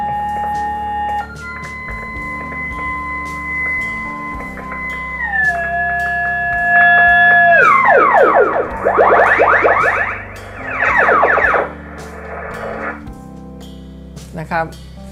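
Audio from a Kenwood TS-50 shortwave radio receiver under repair, tuned to 10.1 MHz: steady carrier tones that step down in pitch, then warbling sweeping squeals and bursts of static hiss.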